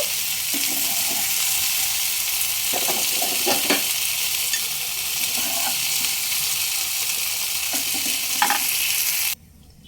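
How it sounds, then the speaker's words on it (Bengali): Turmeric powder with salt and pieces of katla fish head lightly frying in a pan, a dense close sizzle with scattered crackles and scraping stirs, cutting off abruptly at the end, no voices. "অল্প একটু হলুদ গুঁড়ো হালকাভাবে ভেজে নেব"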